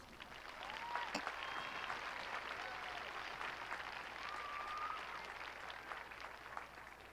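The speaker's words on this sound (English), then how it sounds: "Please give yourselves a round of applause." Faint applause from a high school graduation crowd fills the hall as a steady, distant wash of clapping, with a few whistles rising above it.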